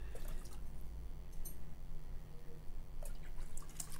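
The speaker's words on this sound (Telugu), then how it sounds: "6 కప్పులు నీళ్ళు పోసుకోండి" Water poured from a cup into a pressure cooker vessel, a faint, steady trickling and splashing with a low background hum, with no talking.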